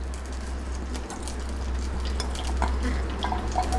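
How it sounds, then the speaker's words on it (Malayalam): Curry leaves drop into hot coconut oil in a pan for pepper chicken, a soft steady crackle and spatter over a low hum, faint and close, with occasional light stirring clicks. "വെളിച്ചെണ്ണ ഒന്ന് ചൂടായി വരുമ്പോൾ കുറച്ച് കറിവേപ്പില ഇട്ട് കൊടുക്കാം."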